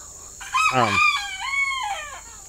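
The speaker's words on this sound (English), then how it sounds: "The chickens, especially Doug, loves to crow when I'm out here filming" A rooster crows loudly and close by, one full drawn-out cock-a-doodle-doo with a rising start and a long held, wavering end.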